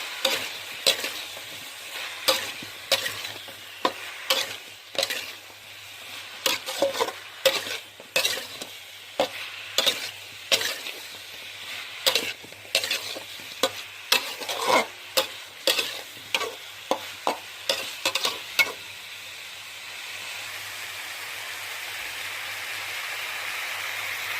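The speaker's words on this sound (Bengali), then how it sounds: "স্বাদ মতো লঙ্কা গুঁড়ো, মশলাগুলো দিয়ে এবার ভালো করে ভেজে নেবো" Spices, chilli powder, turmeric and cumin powder fry for a fish curry under a steady hiss, punctuated by rapid, repeated spatula scrapes against the pan for about twenty seconds before only the soft sizzle remains.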